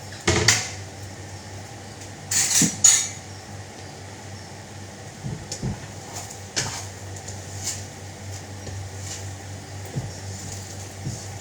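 A plate and other dishes are handled in a home kitchen while a simple dinner is made, giving a few sharp clinks and knocks near the start and scattered softer taps after, close by over a low steady hum.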